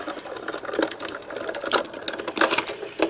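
Diamond Press die-cutting machine feeding card stock through its rollers, a quiet, steady mechanical whirring and rapid ticking that runs throughout with no talk.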